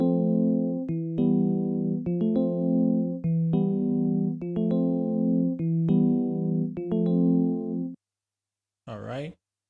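A piano melody recorded in Analog Lab plays loud and alone as a steady run of repeated chords, their notes sustained and evenly paced for about eight seconds. It stops abruptly, followed by a short silence and a brief voice.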